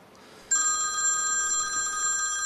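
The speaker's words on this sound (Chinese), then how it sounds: "不好意思，我接个电话。" A telephone rings for an incoming call: after a half-second lull, a loud, bright electronic ring starts suddenly and carries on steadily and close by, with no talking over it.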